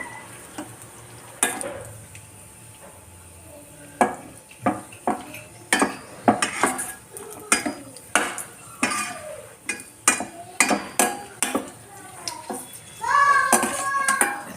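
Cashew nuts fry on a low flame in a pan for Andhra-style chicken pakoda, with a soft, faint sizzle under a run of sharp metal clinks and scrapes as a spoon stirs them.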